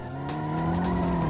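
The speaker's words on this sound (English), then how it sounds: "Should we do a little clutch kick here?" A plastic-bodied Chinese car gets a clutch kick, its engine revving steadily with a continuous tire squeal and skid that hold loud for the whole moment.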